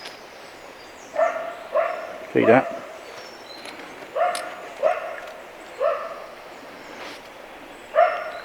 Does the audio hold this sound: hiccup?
no